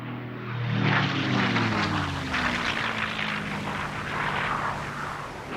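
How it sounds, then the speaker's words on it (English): Low-flying, old and slow US torpedo bomber aircraft from World War II, a loud steady propeller engine drone with a falling pitch as it passes close by, no talk. "they came under attack from low-flying US torpedo bombers"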